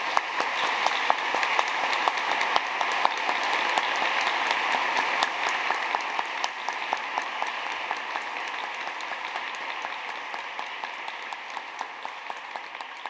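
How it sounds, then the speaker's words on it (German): Sustained, even applause from a seated audience at a 2020 academic ceremony, many hands clapping densely for about thirteen seconds, with no voices over it. "dafür könnten wir ihr ruhig ein bisschen Applaus spenden."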